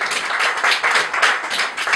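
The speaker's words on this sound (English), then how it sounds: "give her a round of applause." Church congregation giving a round of applause, a full continuous wash of clapping hands, steady and fairly loud throughout, with no voices on top.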